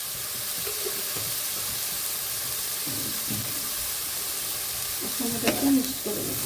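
Cumin and coriander powder frying in a pan for Bengali-style cauliflower paratha, a steady soft sizzle that runs throughout with a few brief stirring clatters near the end.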